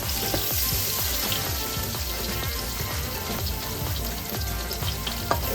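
Minced pork with garlic stir-fries in oil, giving a loud, continuous sizzle with rapid crackling pops and faint scraping throughout, close and alone without talk.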